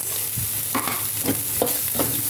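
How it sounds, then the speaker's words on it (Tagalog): Eggplant sautéed dry in a pan with no oil, with a faint hiss and a few soft scraping stirs repeating about every half second, no talking. "Igisa-gisa din hanggang maging golden brown."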